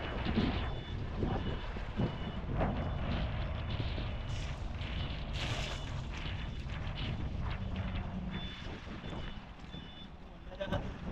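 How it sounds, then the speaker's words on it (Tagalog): Strong sea waves churn and crash around a small fishing boat at night, a continuous loud wash of surging water with gusting wind noise, steady throughout with occasional heavier bursts. "Lakas ng alon."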